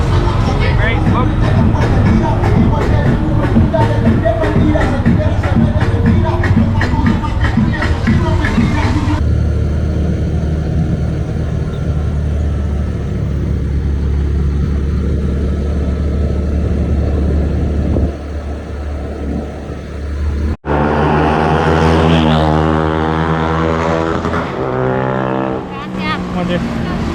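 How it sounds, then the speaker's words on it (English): A tuk-tuk engine putters and revs as it rides through Flores, Guatemala, the motor noise rising and falling near at hand with people talking over it at times. "Are on a tuk-tuk."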